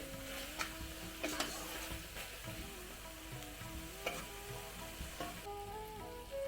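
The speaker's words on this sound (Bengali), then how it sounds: "ভালো করে কষাতে হবে, আরো আস্তে আস্তে তেলটা ছাড়ছে" Masala spices sauté in oil for dal makhani, a faint, steady sizzle broken by occasional light taps of a stirring spoon, with soft tonal sounds in the background.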